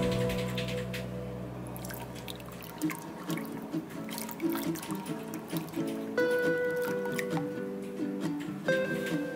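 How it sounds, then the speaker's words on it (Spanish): Dried chickpeas are rinsed and drained with water: splashing and dripping liquid, with the wet shifting of the beans, sounding close and fairly quiet. "El agua debes cambiarla para enjuagarlos muy bien y luego escurrirlos."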